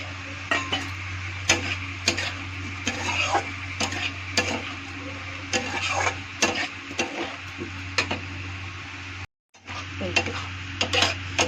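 A spoon stirs a sugar mixture in a pan, scraping steadily with repeated clicks and knocks over a constant low sizzle and hum, close and alone, with a brief cut near the end.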